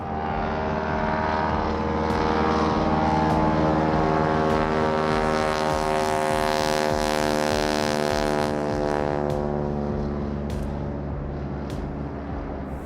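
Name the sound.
small floatplane engine taking off from a lake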